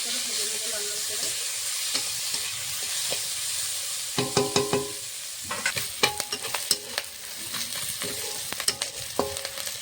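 Onion, garlic and green chili fry together in a pan for fish curry, a constant sizzle broken by a run of sharp metallic clinks and scrapes as a spoon stirs them.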